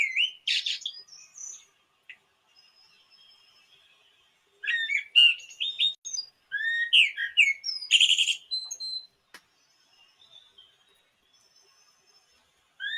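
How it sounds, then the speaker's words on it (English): Several birds sing and chirp in bright, quick phrases, bursts of calls separated by short quiet gaps, fairly close and clear with no talk. "And as you sense the songs of the birds all over the planet"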